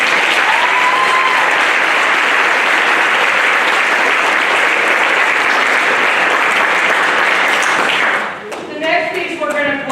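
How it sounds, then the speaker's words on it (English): Dense, loud applause from an audience at a school band concert, a sustained wash of clapping for about eight seconds before it fades and a voice starts talking. "You give her a round of applause."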